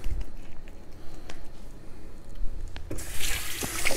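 A kitchen sink tap runs while hands are washed after shaping a bacon-wrapped meat loaf, a soft splashing stream that swells louder and hissier near the end, close by.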